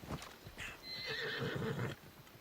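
Horse hooves clip-clopping and a drawn-out neigh from a horse in Assassin's Creed Odyssey, the whinny rising in the middle over steady hoofbeats, fairly quiet overall.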